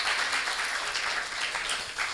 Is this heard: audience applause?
yes